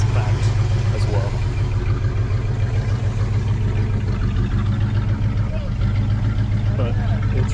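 A 1970 Chevy C30 engine runs with a rebuilt Rochester Quadrajet carburetor, a steady low idle rumble continuing under people talking nearby.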